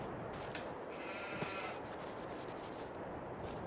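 Goats bleat in Farming Simulator 22, a few short bleats from the livestock heard faintly over a steady wash of ambient farm noise.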